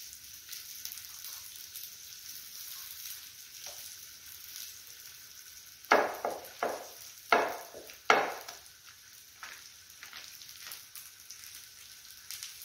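Dhapate thalipeeth flatbread fries in oil on a hot iron griddle: a soft, steady sizzle rises into several sharp crackling bursts in quick succession midway before settling back down.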